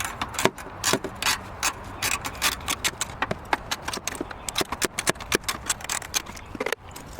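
Ratchet wrench loosening starter bolts on a Toyota 3.0L V6 engine, a rapid series of sharp metallic clicks in irregular bursts, close and fairly loud with no talk.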